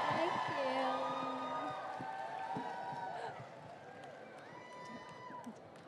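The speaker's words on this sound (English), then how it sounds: "please give another round of applause for Ms. Park Min-young" Audience at a Park Min-young fan meeting cheers and whoops, loud at first and then fading to a softer, steady crowd murmur with scattered shouts and clapping.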